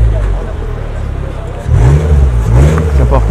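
A Porsche at a youngtimer classic car gathering in Vesoul rolls in with a loud, close engine that rises and revs in a few surges, with people talking nearby.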